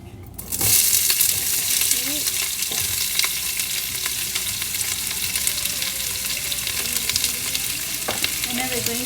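Onions hit hot oil in a pot for a one-pot vegetable biryani and sizzle loudly, the frying starting abruptly then holding steady with occasional stirring clinks and faint talk underneath.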